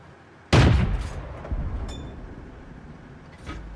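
A single loud cannon blast from a T49 tank destroyer in a tank video game booms suddenly and decays over about a second. Fainter mechanical clanks follow, and a softer thud comes near the end.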